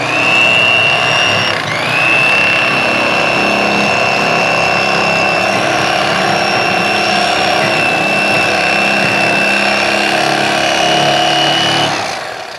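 A steady, high-pitched electric motor whine from an electric fillet knife cutting a fish down to the backbone runs continuously up close, dipping briefly near the start and cutting off at the end.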